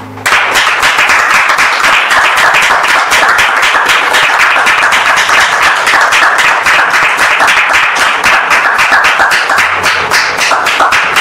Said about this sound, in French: je vous demande ici maintenant de recevoir le pasteur Donald sous vos applaudissements